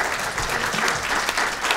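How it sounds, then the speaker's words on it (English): A lecture audience applauds steadily throughout, welcoming the speakers on stage in a hall, dense clapping at even loudness with no voices on top. "it says Rick will begin after the applause, so that's now"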